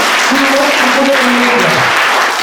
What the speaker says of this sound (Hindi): तो एक ताली इनके लिए भी